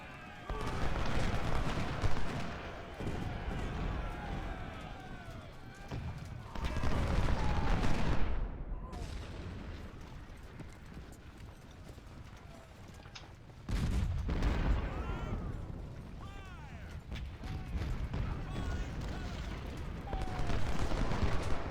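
Battle gunfire in a Union Legendary Ironman game on the Secure River map, scattered volleys and booming reports rising and falling over about twenty seconds, with dense crackling bursts at several points and quieter gaps between.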